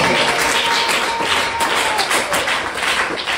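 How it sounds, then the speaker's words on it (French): A church congregation applauding for the Lord, loud dense clapping from a large crowd, steady and close throughout the short burst. "Est-ce qu'on peut acclamer pour le Seigneur?"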